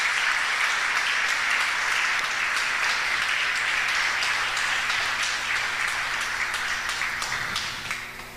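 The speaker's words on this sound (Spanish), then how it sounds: "Dale un aplauso al Señor por su palabra." Congregation in a church service breaks into sustained applause, a dense wash of many hands clapping steadily and loudly before tapering off near the end.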